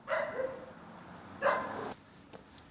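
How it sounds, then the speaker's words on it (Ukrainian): Loose stray dogs in an outdoor street setting bark in two short bursts, one near the start and another around the middle, with a sharp yip near the end; moderately close. "Рудий теж тут он гавкає."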